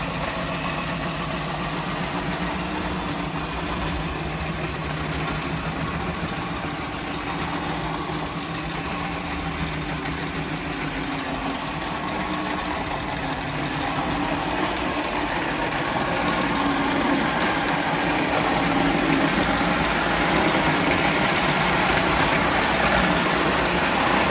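A Lionel Atomic 671 turbine model train engine spins its wheels in place with a steady, continuous motor whir and hum, moderately loud and unbroken, growing slightly stronger toward the end, with no voices.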